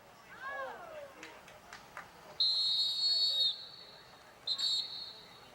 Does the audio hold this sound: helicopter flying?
no